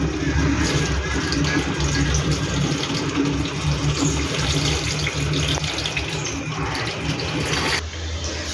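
Water from a tap pours steadily into a drinking-water can, a continuous close gushing stream that holds even until a brief change near the end.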